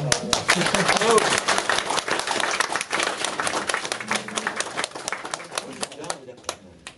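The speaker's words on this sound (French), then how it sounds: "On vous remercie, on peut peut-être l'applaudir." Audience at a dubbing conference applauding a guest, a dense burst of clapping that trails off into scattered claps, with voices mixed in throughout.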